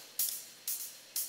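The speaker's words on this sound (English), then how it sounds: "One sounds like this, it's pan to the left." Live hi-hat panned hard left in an electronic track, struck three times at an even, slow pace, each a bright, airy hit that fades before the next, soft and isolated.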